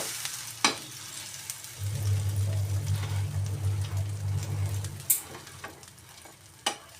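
Egg-dipped bread fries in a pan just after being flipped, a steady crackling sizzle with a low hum in the middle and a few sharp knocks from the utensil; no speech.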